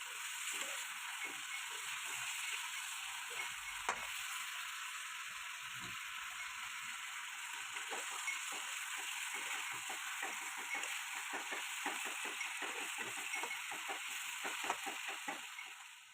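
Chicken meat frying in a pot with turmeric, salt and chili: a faint, steady sizzle and crackle that runs the whole time, with small bubbling pops and no voices.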